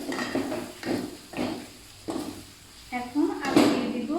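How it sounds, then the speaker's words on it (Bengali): A metal lid is lifted off a pot of braised meat in a home kitchen, producing several light clanks and scrapes of cookware spaced a moment apart, with a soft sizzle and a voice talking over it. "মাংসটা কষানো হয়েছে, এখন ঢাকনাটা উঠিয়ে নিচ্ছি"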